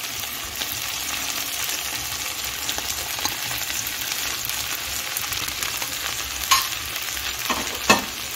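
Flattened rice mixed with salt and sugar goes into a pan over a high gas flame and is stirred, producing a constant broad frying hiss with a couple of sharp utensil clacks toward the end.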